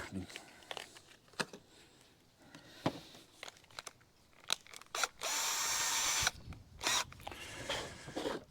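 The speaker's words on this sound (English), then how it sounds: "let's get some holes drilled" Short bursts of a power drill with new bits whirring and biting into a bus roof, with one longer sustained run midway, separated by clicks and handling noises.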